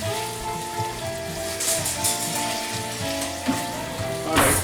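Beef and peppers stir fry for sweet and sour sizzling in a hot pan, a steady close crackle and hiss with brief louder scrapes of stirring near the end.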